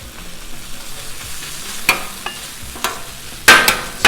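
Chorizo and vegetables fry on a Blackstone griddle, a steady sizzle broken by a few sharp spatula scrapes and clanks, the loudest near the end, with no talking.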